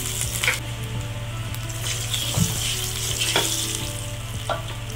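Garlic sizzling and frying in hot mustard oil, a steady broad crackle with occasional stirring clinks, close and continuous with no voices.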